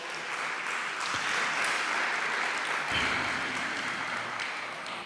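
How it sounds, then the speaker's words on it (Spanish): A church congregation applauds together, a steady dense wash of clapping with a couple of sharper claps, sustained at moderate loudness throughout before easing slightly at the end. "denle un aplauso ahí al Señor"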